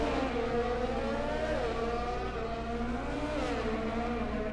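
A Ferrari race car engine roars steadily on track, a loud, sustained high-revving note with rising and falling pitch from gear changes, heard alone without talk.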